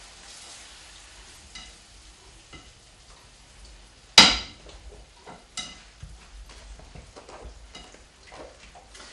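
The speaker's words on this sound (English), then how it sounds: "And we're going to let that simmer for a few minutes." Tomato sauce hits a hot pan with one sharp loud sizzle, then settles into faint bubbling and crackling with occasional scrapes of stirring, with no talk.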